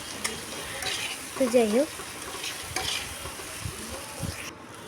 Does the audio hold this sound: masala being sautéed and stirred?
yes